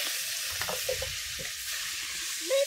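Fish fries outdoors at a village winter feast with a constant low sizzle. Soft clinks and scraping stirs sound intermittently, and one brief louder clatter comes near the end.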